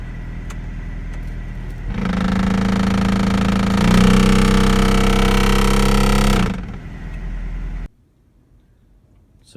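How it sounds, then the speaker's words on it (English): Noisy AC/heater blower fan in a 1985 Toyota pickup, a loud steady droning hum with a harsh buzzing tone that runs for several seconds, then drops away and cuts off abruptly. "I just wanted to show you how to fix your air conditioner if it's making sound kind of like this"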